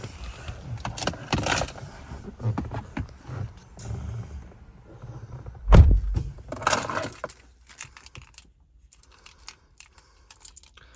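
A set of keys for a silver 2018 Toyota Hilux SR 4x4 dual cab jangles close by in bursts, with a louder metallic clink midway, then quieter rattles trailing off.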